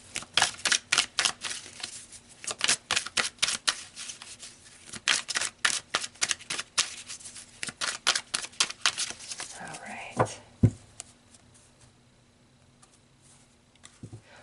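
A deck of tarot cards is shuffled in rapid riffling bursts, a dense run of crisp clicking flutters with short pauses, close by, then a softer handling sound and quiet near the end.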